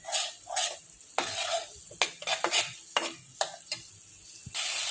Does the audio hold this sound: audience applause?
no